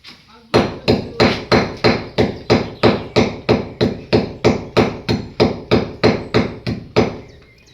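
A hammer strikes hard in a steady, even rhythm of about twenty-two loud, close blows during home construction work, with no one speaking.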